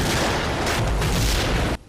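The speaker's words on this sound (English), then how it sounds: "hot metal plus cold water equals explosions" A dense, roaring explosion bursts from hot metal meeting cold water in a film scene, a loud sustained blast that cuts off abruptly after nearly two seconds.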